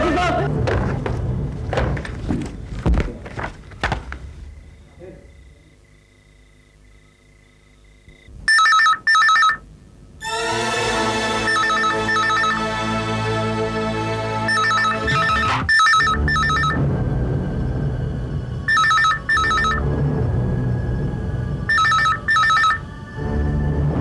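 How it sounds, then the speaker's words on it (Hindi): A telephone bell rings in repeated loud bursts with gaps between them, after thumps and a quieter stretch, set in a suspense drama scene with voices around it. "हर रात एक ही समय ये फोन बजता है"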